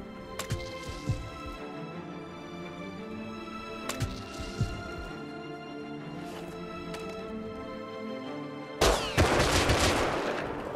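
Gunfire in the survival video game Rust, with a few sharp shots spaced over steady in-game ambience, then a loud burst of dense firing near the end.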